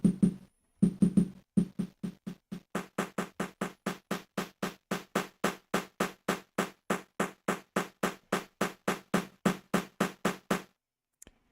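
A drum sample plays through the isolator effect of a Roland P-6, a steady run of evenly spaced hits at a brisk tempo, briefly interrupted near the start, then continuing alone and clear.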